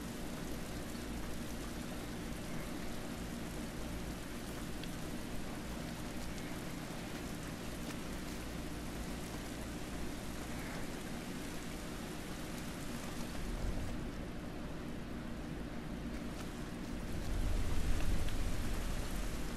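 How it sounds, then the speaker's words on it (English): Rain in the video game The Last of Us, a soft, steady hiss of falling drops on surfaces that runs throughout with a low rumble beneath, swelling slightly louder near the end. "It's raining."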